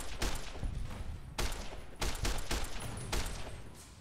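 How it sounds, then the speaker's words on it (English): Pulse grenade blasts and gunfire in Fallout: New Vegas, a series of sharp bursts and crackling hits with several distinct loud impacts in quick succession, close and harsh with no voices. "damn pulse grenades"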